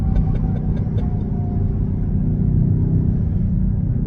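A 2023 BMW XM's engine rumbles steadily up close, a deep continuous low-pitched drone with a faint rising tonal whine, no voices over it.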